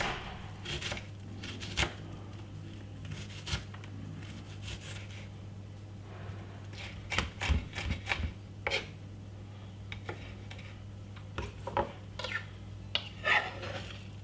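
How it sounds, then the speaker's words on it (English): Knife chopping a white onion finely on a board, with a series of soft, irregular cuts and taps close by over a steady low hum, quick bursts of strokes between pauses. "So you just want to cut up your white onion very finely."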